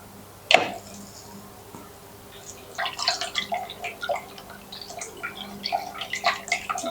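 About 30 grams of soap hardener poured into 500 ml of water during a soap-making class: a single knock, then a faint, steady run of light drips and trickling splashes with no talking.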